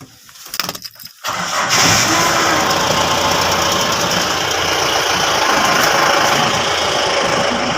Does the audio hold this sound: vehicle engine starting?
yes